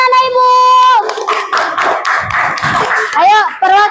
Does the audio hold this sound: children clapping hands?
yes